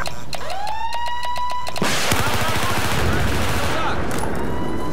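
In a video game, a bomb-activation tone rises into a steady beeping alarm, then bursts of gunfire crackle in rapid succession, loud and close, with the beeping continuing faintly underneath.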